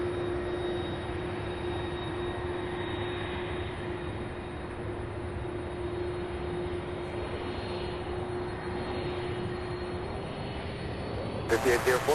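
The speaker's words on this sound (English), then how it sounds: "The Southwest flight there heading to 35 right as this MD-11 taxis over." A continuous engine drone from an MD-11 airliner taxiing at Louisville airport, steady and moderately distant, with a tonal hum and faint speech sounds mixed in.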